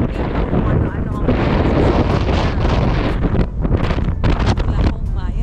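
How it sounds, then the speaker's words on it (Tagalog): Strong gusting wind in Oklahoma, loud and near, roaring and buffeting continuously with surging peaks. "Yan no, sobrang hangin. Ang hangin."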